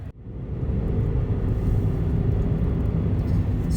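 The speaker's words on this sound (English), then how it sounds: "this little burbling sound you can hear is what the engine sounds like on idle" From inside the cabin of a Toyota Aygo, the engine idles with a low, steady burbling rumble that fills the space continuously after a brief start.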